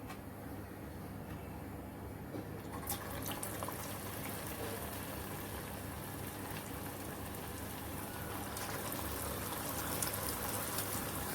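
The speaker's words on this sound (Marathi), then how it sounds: "असेच मी सगळे तळून घेते" Medu vada frying in hot oil, a steady faint crackling sizzle throughout, dense and even like light rain, with a few brief sharper clicks.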